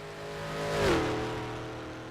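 Subaru rally car in a time trial on the Isle of Man mountain road sweeps past close by, its engine note rising and then dropping as it passes, alone and fairly quiet.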